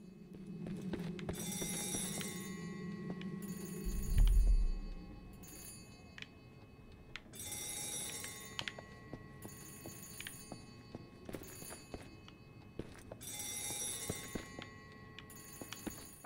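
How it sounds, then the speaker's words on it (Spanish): In the horror game Saturnalia, an old telephone bell rings again and again in steady bursts separated by pauses, loud and clear above a dull ambient drone, with one heavy thud early on. "¿Qué suena el teléfono?"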